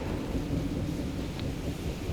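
A low, continuous rumble of thunder mixed with steady rain in the video game Marvel's Guardians of the Galaxy.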